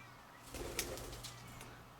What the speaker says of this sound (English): you can hear the birds flapping around over there